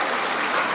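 A dense wash of clapping from a mushaira audience at a poetry gathering in Yavatmal, loud and steady throughout the brief moment with no break.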